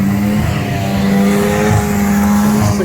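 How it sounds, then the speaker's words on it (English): Banger race cars roar loudly down the back straight of a raceway, engines droning in a dense sustained pack with rising and falling pitch as they pass close. "The cars raced down the back straight."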